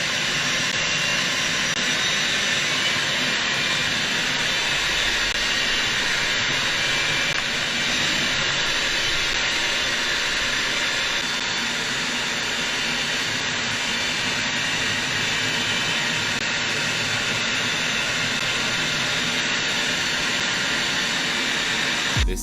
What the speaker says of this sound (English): This fighter jet pilot was flying between buildings as part of an air show in Australia.